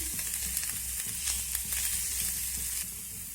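Vegetables crackle and sizzle in a hot pan, a dense steady hiss with occasional light scrapes, close up and uninterrupted, easing slightly at the end.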